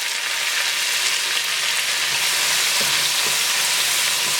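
Steady, dense sizzling of finely chopped onions frying with cumin in hot oil over high flame, continuous and close, with faint stirring clicks and no voices.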